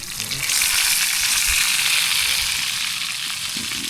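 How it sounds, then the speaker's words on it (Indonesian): Tempeh frying in a pan at a campsite on a mountain hike, a steady close, loud sizzle and crackle of hot oil running evenly through the whole stretch with no voices. "Di pos 3 kita lagi masak-masak nih. Tempe goreng."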